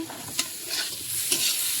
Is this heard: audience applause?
no